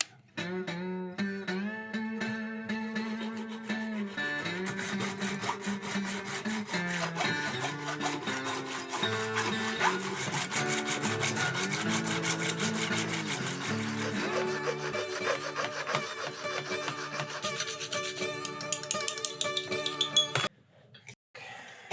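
An old-style hand saw cuts through metal in repeated rasping strokes with a ringing, squealing tone that rises and falls, continuing for about twenty seconds before stopping abruptly.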